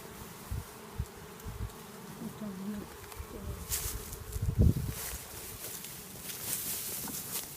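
Bees buzzing steadily around a beehive, a continuous close drone with brief louder passes of individual insects and light rustling of handled hive parts.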